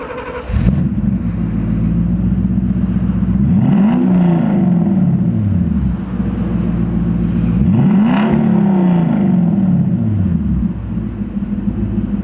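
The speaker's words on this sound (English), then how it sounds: "I want to have you listen to the engine because it purrs" A deep Porsche V8 engine idles with a steady rumble, then revs up twice in rising and falling sweeps before settling back to a smooth, throaty idle.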